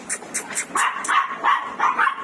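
A pet dog, one of several in a household with a Pomeranian, gives a quick series of sharp, close barks, about eight in two seconds, with no talk over them.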